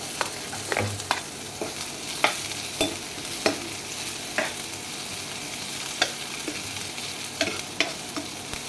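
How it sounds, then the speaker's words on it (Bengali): Chopped onions and garlic frying in a pan for Chinese-style pasta, giving a steady close sizzle broken by repeated sharp scraping stirs of a spatula, no voices. "রসুন কুচিটা লাল লাল হয়ে গেলে পেঁয়াজ কুচি দিয়ে ভেজে নেব।"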